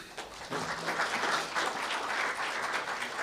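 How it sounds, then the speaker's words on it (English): An audience at a science talk on ocean observation applauds, a steady burst of many hands clapping that starts abruptly and holds for several seconds. "A round of applause."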